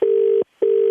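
A telephone tone heard after a phone call is hung up: two loud, steady beeps separated by a brief gap of silence.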